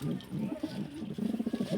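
Pigeons nesting on eggs in a loft give low, soft cooing, several overlapping throaty coos close by and moderately quiet, with a pulsing rhythm toward the end.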